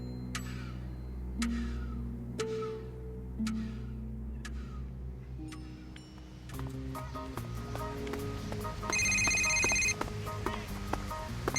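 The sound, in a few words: telephone ringing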